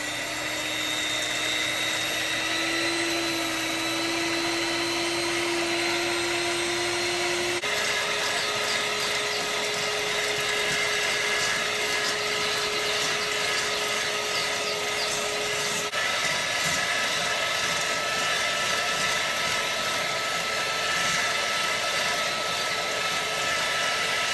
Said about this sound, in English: We had 6 egg whites left over for making our pie, so let's go ahead and get it whipped up.